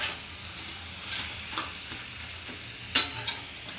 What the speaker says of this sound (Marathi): एक चमचा व्यवस्थित परतून घ्यायचा आहे खिमासोबत।